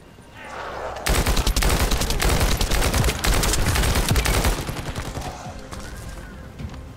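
Bertrand rifle fire in the shooter game The First Descendant: a loud, rapid automatic burst of shots rattling continuously for about three seconds, then tapering off.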